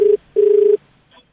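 A telephone call being placed, with two steady electronic ringback tones, one short and one longer, loud and close, followed by a faint brief blip and no talking.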